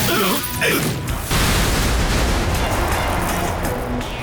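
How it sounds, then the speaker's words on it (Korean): A cartoon space laser fires with a sweeping, warbling zap, then a loud booming explosion crashes in and rumbles on as a sustained blast of noise. "모든 걸 가루로 만드는 우주 레이저 발사!"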